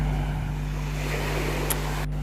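Sea surf at Jomtien beach, a shore where local fishing boats go out, makes a steady, fairly loud wash of waves with wind rumbling against the microphone throughout.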